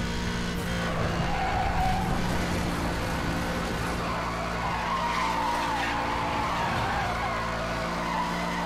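A Gumpert Apollo drifts in Need for Speed Hot Pursuit Remastered, its engine roaring and tires squealing continuously and loudly through the corner.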